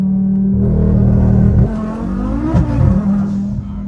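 A 1300bhp Audi RS3 makes a rolling launch, its engine droning loud and close as it pulls hard, then shifting and rising again with a surging, revving roar.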